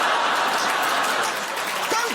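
Studio audience at a television chat show applauding in a broad, steady burst, with scattered laughter and a voice talking over the clapping.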